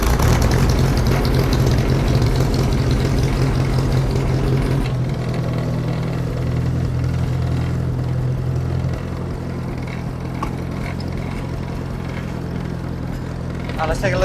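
An Oliver tractor engine runs close by with a heavy low-pitched chugging drone, loud at first, then settling to a steadier, quieter idle while someone talks over it.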